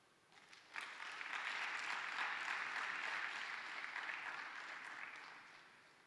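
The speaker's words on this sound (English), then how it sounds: "give another round of applause for all the participants under this category" Sustained audience applause for competition participants at a research presentation and poster event, swelling in sharply after a brief quiet start and holding steady and full before slowly tapering.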